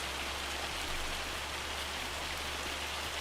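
Pea-size hail in the video game Farming Simulator 25 makes a dense, steady hiss of small pellets hitting surfaces, with no break and no talk.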